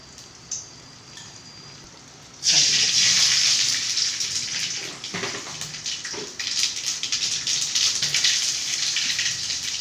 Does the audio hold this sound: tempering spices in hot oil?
yes